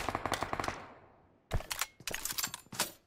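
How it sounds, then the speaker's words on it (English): Bursts of rapid automatic fire from an M249 machine gun in a shooter game, a fast rattling volley that trails off, a pause, then two more quick bursts close and loud. "That M249 came in big handy."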